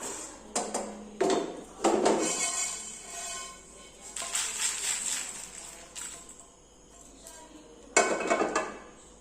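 Roasted coriander seeds tumble into a pan of dried red chilies and lentils while sambar powder is being made, giving several quiet rattling, clattering bursts separated by short pauses, with light kitchen clinks between them.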